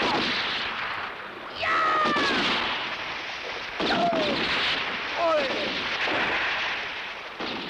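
Gunfire in a spaghetti western shootout: loud, dense gunshots with whining ricochets that keep going throughout.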